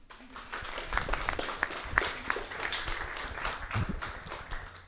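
Audience applause after a panel of six speakers, a steady mass of clapping hands filling the room at moderate volume for several seconds, with a few sharper individual claps standing out.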